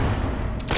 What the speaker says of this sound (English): Keep up that shooting and we will rid of them in no time